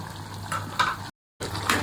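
Chicken curry with salt and turmeric being stirred in a pot, with soft sizzling and scraping of a spoon in short strokes, a brief silent gap midway, fairly quiet and close with no voice.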